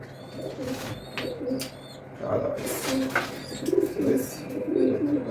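Pigeons coo softly close by while someone speaks and makes calling sounds to them.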